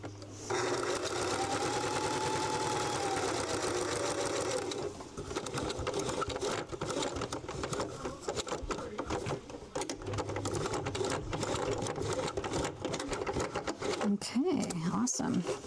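A home sewing machine stitches fabric bookmarks in a continuous fast rhythmic whir, briefly pausing partway through and then resuming, with someone talking over it.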